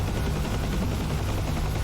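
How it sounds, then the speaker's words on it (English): A helicopter in the DCS flight simulator flown in VR gives a steady, dense rotor and engine roar that fills the clip without pause and with no talking. "I'm going to fly in the helicopter on DCS"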